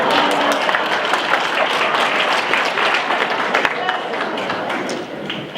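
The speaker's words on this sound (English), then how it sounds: "that's an applause line" Dense, loud audience applause fills the room steadily for the whole span, with no break.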